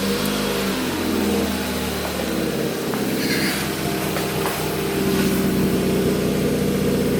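A Ford Fiesta Mk6 fitted with a new Powerflow exhaust revs up, its engine note rising into a loud, steady drone that holds close to the microphone with no one talking.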